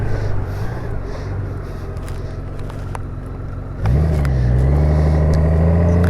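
A Honda Gold Wing motorcycle on the road, its engine a steady low rumble that swells suddenly as the throttle opens and holds at a louder, higher drone.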